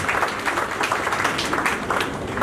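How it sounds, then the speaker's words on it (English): An audience at a hospital's 40th anniversary celebration applauds the staff and doctors, a lively burst of crowd clapping with a rhythmic, slightly uneven patter, loud and close. "I want a big round of applause for all the staff"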